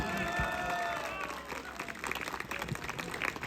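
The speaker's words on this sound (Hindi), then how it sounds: "उसके बाद दोस्तों ताली बजाना।" An audience claps in a dense, continuous burst of applause during a patriotic speech about a BSF soldier, swelling after a brief quieter start and filling the room alone.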